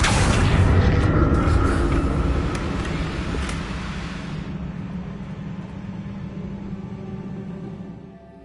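Burst of magic from a Harry Potter video game: a loud, deep booming rush that fades gradually into a low rumbling tail.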